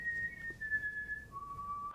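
A person whistles a short tune of a few sustained, pure notes stepping down in pitch, soft and close over faint background hiss, with no speech.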